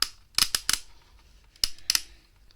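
Plastic landing struts on a Maketoys Buster Stealthwing toy robot are folded out, making a few sharp, close clicks and snaps in two short bursts separated by a brief pause.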